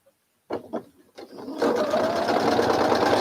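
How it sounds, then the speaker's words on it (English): A few short handling bumps come first. Then a sewing machine starts up and stitches a continuous quarter-inch seam on a Christmas quilt, with a loud, steady motor hum close by. "then I just come in and sew 1/4 inch"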